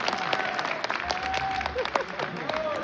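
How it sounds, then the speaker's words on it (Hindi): Audience applause at a Hindi kavita and shayari poetry recital, thin and fairly weak clapping that runs steadily through the whole moment without building, with a faint murmur of voices mixed in. "तालियां थोड़ी सी कमजोर है।"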